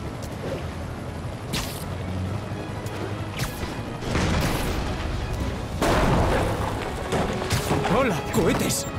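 Repeated heavy rocket booms and blasts burst through a noisy, chaotic Marvel's Spider-Man Remastered soundscape, with a helicopter attacking the city and a few loud impacts standing out over the rumble.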